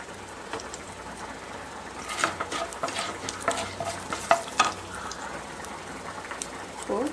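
Mustard seeds, urad dal and chana dal crackle in hot oil with a constant sizzle, while scraping and stirring noises and scattered sharp pops come through up close.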